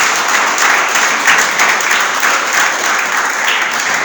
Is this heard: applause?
yes